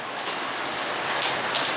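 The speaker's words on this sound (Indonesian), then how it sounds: "hujan rintik-rintik ini" Light drizzling rain falls in front of a house, a steady soft hiss of fine drops pattering on surfaces throughout, with no voices.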